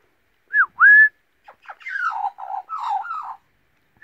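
A person whistles a short tune to a young Australian magpie, clear melodic whistled notes followed by warbling phrases, close and alone in a quiet space.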